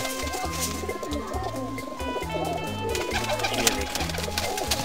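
High-flying pigeons coo in low, repeated throaty phrases from several birds overlapping, close and steady, with faint rustling around them.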